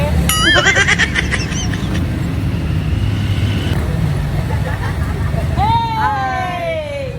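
Busy road traffic rumbles steadily with engines droning nearby, chatter and crowd babble mixed in, and a couple of sharp horn or whistle-like tones sounding at the start and near the end.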